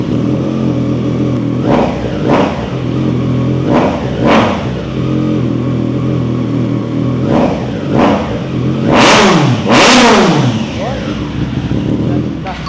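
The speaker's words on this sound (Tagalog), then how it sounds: "soundcheck na rin natin kung gaano kaganda ang 3-cylinder ng Triumph Trident" Triumph Trident three-cylinder motorcycle revving at a garage sale, several short throttle blips over a steady idle, then two bigger rising-and-falling revs, loud and close.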